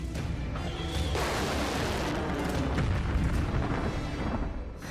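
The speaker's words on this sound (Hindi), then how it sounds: "और फिर क्या हुआ, एक बड़ा धमाका।" A big missile-strike explosion erupts as a loud, sustained broadband roar and rumble that fills the whole span, heavy and dense throughout.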